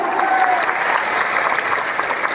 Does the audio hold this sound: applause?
yes